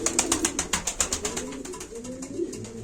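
Feather-footed tumbler pigeons for sale at a live auction coo close by, with a run of quick rhythmic pulses followed by softer, drawn-out calls.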